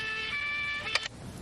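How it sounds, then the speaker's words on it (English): A French police siren plays, its steady high two-tone wail ringing loud and alone for almost a second before cutting off with a couple of sharp clicks, leaving faint room noise. "This is the sound of a French siren."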